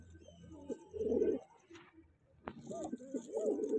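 Healthy pet pigeons, some up for sale, coo softly in repeated low, throaty phrases close by, with a brief rustle in the middle.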